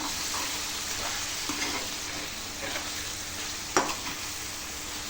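Dhaba-style chicken sizzles steadily in a pan while it is stirred, with soft scraping and one distinct knock of the spoon near the end, close and without voices.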